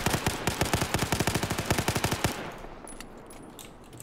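Microburst weapon in Battlefield 4 fired as fast as the trigger can be clicked: around twenty sharp, evenly spaced shots in a rapid, loud burst, then cutting off into faint echoing tail and quiet ambience.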